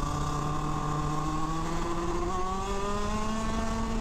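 A shifter kart engine screams under acceleration, its buzzing two-stroke note climbing steadily in pitch as revs build, loud and continuous with no gear change and no talk over it.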